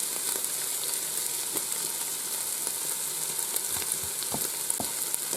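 Beef patty filling with smoked paprika and flour is stirred in a hot pan, giving a steady, close sizzle throughout with faint scraping of the spoon.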